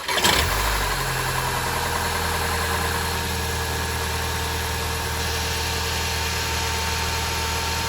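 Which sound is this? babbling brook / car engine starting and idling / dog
car engine starting and idling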